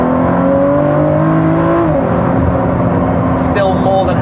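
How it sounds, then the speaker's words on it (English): A Ford GT sports car engine revs hard in a rising, screaming tone over several seconds, close and loud, with someone talking over it throughout. "Still more than happy to scream away. The GT is just a brilliant car all around"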